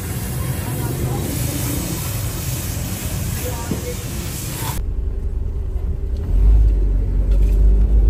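A car is driven home from Multan, with a loud, continuous road and engine rumble at first. Partway through, it drops to a quieter, deeper interior hum.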